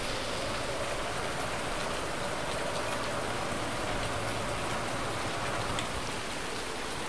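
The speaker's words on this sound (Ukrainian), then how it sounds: "якщо в нас іде дощ, то на полі в нас буде ось таке робитись" Steady, dense rain in the video game Farming Simulator 19, a continuous even hiss of drops hitting the ground with no pauses or voices.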